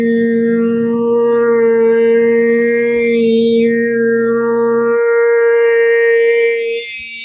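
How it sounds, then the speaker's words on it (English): A single voice holds a steady low drone while whistling overtones glide above it, shifting up and down in pitch, sustained and close. "You'll hear me sing one note that might sound like a droning note"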